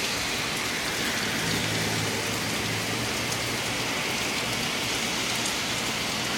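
Heavy rain pours down steadily during a thunderstorm, a dense, loud, unbroken hiss of drops hitting surfaces with no pauses and no voices.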